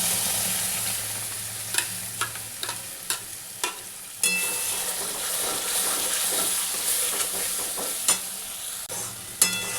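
Spinach (palak) sizzles steadily in a hot pan for palak paneer, with a constant frying hiss broken by several sharp scrapes and clacks of a spatula as the leaves are stirred.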